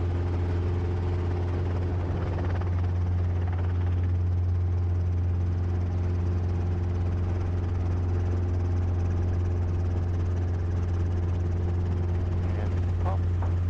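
Helicopter on a first solo flight, its engine and rotor droning loud and steady throughout with a deep constant hum from inside the cabin, while a pilot's voice murmurs beneath it.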